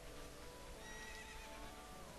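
The horse Epona whinnies in the video game Zelda: Ocarina of Time, a single shrill neigh with a short clop of hooves at a ranch, faint behind a steady hiss.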